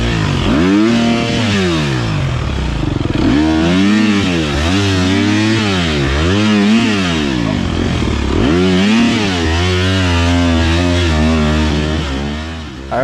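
An off-road race motorcycle roars loud and close, its engine revving up and down in repeated swells with the wheel spinning and scrabbling for grip throughout.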